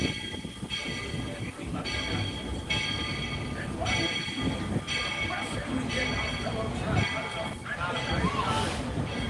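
A Magic Kingdom theme park train rolls into Main Street station, rumbling and clanking with rhythmic rail noise; people talk over it and the crowd murmurs.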